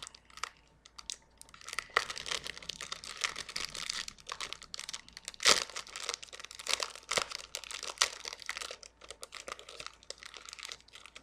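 Paper pompoms crinkle and rustle as they are handled, in irregular bursts of crisp crackling close to the listener, with one sharper crunch partway through and no voices.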